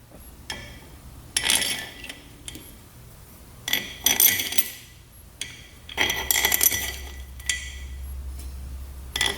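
Cylinder bolts being fitted on a big bore quad engine: sharp metallic clinks and taps come in several short bursts, close and fairly loud, with quieter handling sounds and low background hum between them.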